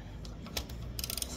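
A long ratchet with a socket clicks while turning a locking wheel nut on a car wheel: a few separate ticks, then a quick close burst of ratcheting clicks.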